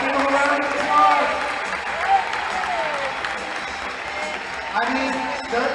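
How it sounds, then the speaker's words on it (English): An indoor soccer crowd at a Wichita Wings versus Omaha Kings game breaks into sustained applause and cheering, with an announcer's voice heard over the clapping. "Let's give them a round of applause."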